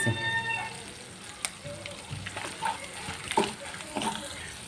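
Spices for a fish curry fry in a pan with a quiet, soft sizzle and scattered small pops, heard faintly beneath a person speaking.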